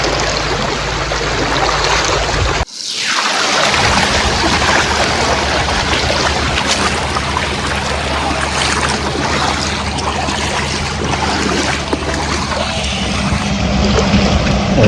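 The Sabarmati River rushes past in flood, a loud, dense, continuous roar of flowing water with a brief thump near the start and no speech.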